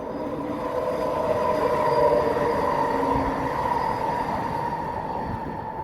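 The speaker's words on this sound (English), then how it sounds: "Train." A train rumbles past close by, a loud continuous roar of wheels on rails with a faint squeal, no voices.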